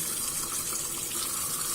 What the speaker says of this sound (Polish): I teraz jeszcze raz nalewam wodę